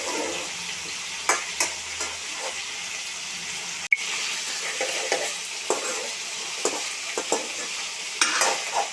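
Potatoes stir-fried in hot oil in a home kitchen pan while cooking a mild potato curry, with a steady soft sizzle and intermittent scraping stirs, one sharp clack midway, no talking.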